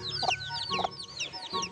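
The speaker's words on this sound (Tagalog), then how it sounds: "Ayan, may mga nakataling manok dito." Native chickens, some tethered, cluck and chirp close by in quick overlapping calls, with chicks and bird chatter behind them in a rural village.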